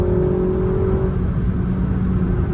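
A Renault Megane RS engine drones loudly from inside the car, a deep steady roar with a rising whine that fades partway through as the car pulls hard.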